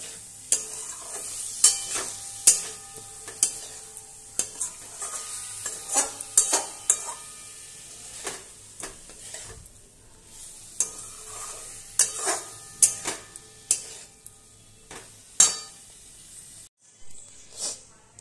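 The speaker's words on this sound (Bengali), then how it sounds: "ভাজা আলুগুলোকে একটুখানি মশলার সাথে মাখিয়ে নেব, তাতে আলুগুলোর মধ্যে একটু মশলা ঢোকে।" Fried potatoes get stirred with spices in a pan, giving a run of sharp scraping and clattering strokes at an uneven rhythm, with a soft sizzle beneath and quiet pauses between the stirs.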